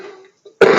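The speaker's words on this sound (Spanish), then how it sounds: "Mira, me está entrando la tos." A single short, harsh cough or throat clear bursts out loudly after a brief pause in a person's speech during a televised debate.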